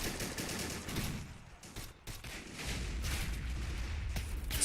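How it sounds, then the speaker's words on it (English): A .50 cal machine gun mounted atop a vehicle in the war game Men of War Assault Squad 2, firing continuous dense bursts amid booming battle noise, loud and sustained with a brief lull midway. "With a 50 cal machine gun on top, that's also kind of a good way to shred infantry. As you can see, it's just firing away."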